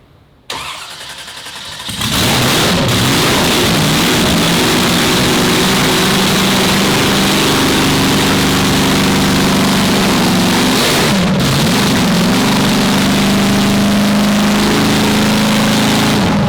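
V8 engine swapped into a Nissan Skyline R34 cranks briefly, catches and fires, then settles into a steady, loud rumbling idle with a short rev blip partway through, no talking.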